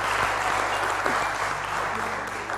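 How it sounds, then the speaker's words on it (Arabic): Audience applause at a comedy show, a dense steady roar of clapping from a crowd throughout, with faint voices mixed in. "نحب بالله تصفيقة كبيرة برشا عليهم"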